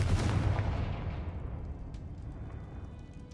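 A Confringo fire spell blast in the Hogwarts Legacy video game, a single heavy booming explosion at the start that decays into a long fading rumble.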